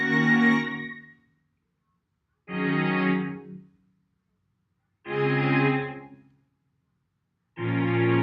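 Four separate sustained phrases of a MIDI synthesized bass line layered with string pads, each held for about a second and a half, with silence between them.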